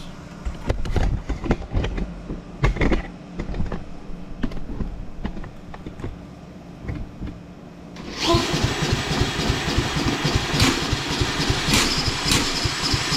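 A Curb lawnmower engine is cranked repeatedly with choppy, uneven bursts as it tries to fire, then catches into a louder, steady running roar partway through.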